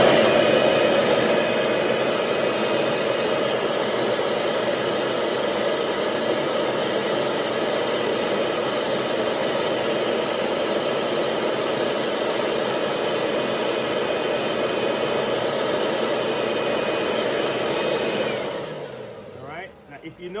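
A Kirby vacuum cleaner with a stuck transmission runs at a steady, loud whining roar for about eighteen seconds before switching off and winding down.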